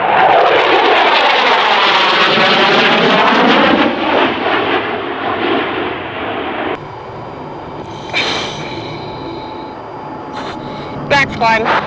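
Loud roar of an F-16 Viper fighter jet during a flight demonstration, a sustained powerful engine rumble for several seconds that drops away, followed by fainter sounds and radio-style voices.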